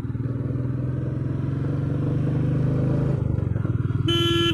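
A motorcycle heads downhill on a hill road, its engine droning loud and close with a shifting pitch as the rider brakes and slows, a brief horn-like tone sounding near the end.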